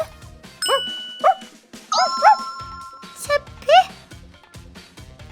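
A small pet dog on a walk gives a handful of short, high-pitched whimpering yelps and barks in separate bursts, fairly close and clear, with some quiet background noise between them.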